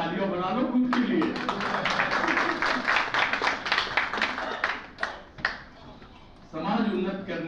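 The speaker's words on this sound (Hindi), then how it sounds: "आपके लिए भी थोड़ी तालियां बना लो खुद के लिए" Audience applause at a speech in Shahapur: a crowd claps steadily for several seconds, thinning toward the end, with the speaker's voice heard at the start and again at the close.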